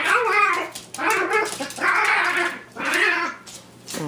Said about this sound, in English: Wouldn't you be petrified of this dog?